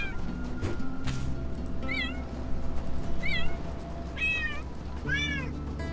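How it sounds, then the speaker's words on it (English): A cat meows several times in the video game Shelter 2, set outdoors at night near fireflies, each call distinct and separated by short pauses over a steady low ambient background, with no speech. "I should keep meowing too, just in case somebody can hear me."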